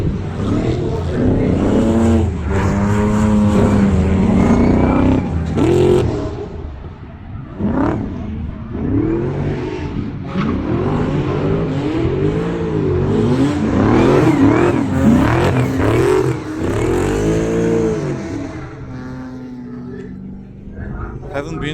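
Drift cars battling on the Nurburgring at a drift event, engines revving hard and rising and falling in pitch as they slide past, loud and close, with tyre screech and crowd or commentary voices underneath.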